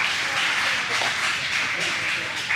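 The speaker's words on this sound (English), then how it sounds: "Round of applause, please" A business meeting audience breaks into applause, a dense, steady wash of clapping that fills the room from start to finish with no single voice standing out.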